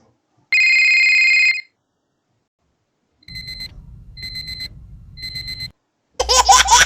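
A household alarm clock rings in one long electronic tone, then a telephone trills in three short bursts over a low buzz, followed by a baby laughing loudly at the end.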